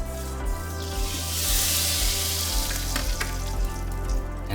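Neutral vegetable or peanut oil sizzles in a hot wok, a loud, close, steady hiss that swells briefly before prawns go in, with no voices over it.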